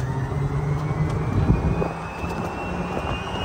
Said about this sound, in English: You can hear that AC motor just whining, screaming.